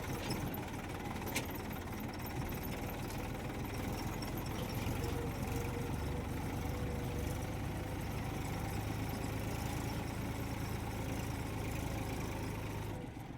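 A New Holland 30-32 tractor engine idles in a dry pond bed during soil-filling work, a steady, continuous rumble close by with no break and no voices.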